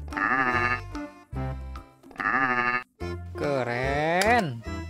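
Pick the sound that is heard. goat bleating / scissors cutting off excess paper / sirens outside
goat bleating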